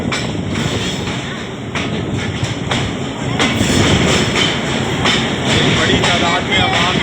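A train passes at Haripur Hazara railway station, a steady loud rumble with rhythmic rattling and clatter of wagons throughout, while people talk in the background.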